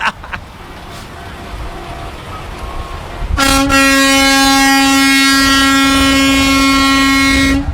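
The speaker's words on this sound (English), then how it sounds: "We got a bunch of trucks over here, folks, that are going to be coming in." Truck air horns from a Freedom Convoy arriving: after a few seconds of low road rumble, loud sustained horn blasts erupt and hold steady to the end, close and dominating.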